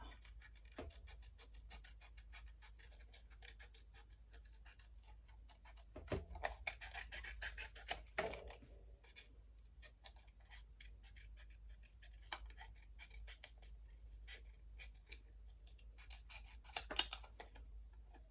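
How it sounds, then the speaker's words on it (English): Scissors fussy-cut around a paper shape for a handmade card, with quiet intermittent snips and paper rustles close by against near silence. "So I'm just going to fussy cut around this."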